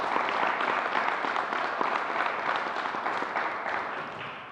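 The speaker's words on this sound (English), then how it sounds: "So let's give her a round of applause" Sustained applause from an audience at a COVID briefing held at the Bell Center, steady dense clapping that fades slightly toward the end.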